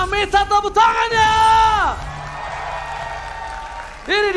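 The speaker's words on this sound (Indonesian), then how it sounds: "EPL Arena, minta tepuk tangannya!" An esports arena crowd at a Mobile Legends match roars with loud, sustained cheering and whooping, rising sharply at the start, settling into a steady wash of crowd noise, then swelling again near the end.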